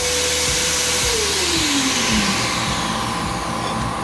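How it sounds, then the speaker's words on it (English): A loud Eastwood blast cabinet vacuum motor runs steadily throughout, with a whining tone that drops in pitch early on as it spins up. "The gloves shot up the minute I turned the vacuum on."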